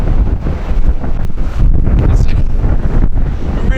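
Strong gusty wind in a storm at Stoer, roaring loudly across the microphone and whipping through gates, a continuous rumbling buffet with surging gusts.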